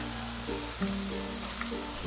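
Spice paste of onion, ginger and garlic sizzles in a pan while cooking for a Bengali doi katla fish curry, a soft, steady frying hiss heard quietly and alone.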